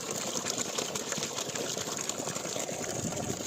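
A 5 hp Texmo solar water pump runs with water gushing steadily from its outlet, a continuous close hiss and churn with a faint mechanical hum underneath and no talk.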